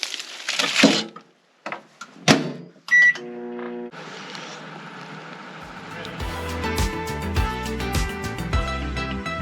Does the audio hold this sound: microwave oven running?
yes